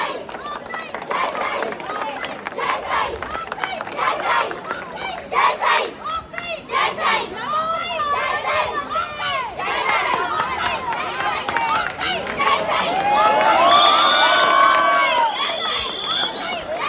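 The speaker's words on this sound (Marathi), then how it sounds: "इथं जोरदार टाळ्या झाल्या" A lively outdoor Dahi Handi festival crowd with women forming a human pyramid, dense cheering, shouting and clapping rising and falling, a loud chorus of voices building toward the end, people talking throughout.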